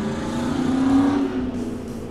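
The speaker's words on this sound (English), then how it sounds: "That was like a 1999 Tahoe with no headers and probably no exhaust." A loud 1999 Chevrolet Tahoe engine with no headers or exhaust roars close by, a deep throaty rumble swelling and then fading as it passes.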